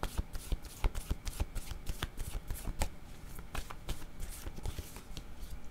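Tarot cards for a reading are shuffled close by, a rapid run of crisp riffling snaps and slaps in uneven bursts, fairly quiet and without speech.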